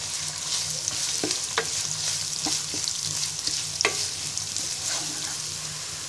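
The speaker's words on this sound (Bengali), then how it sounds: "পেঁয়াজটাকে হালকা ভেজে নিব।" Chopped onion fries in soybean oil in a wok, a constant moderate sizzle with a low hum beneath and occasional sharp clicks of a stirring spoon against the metal.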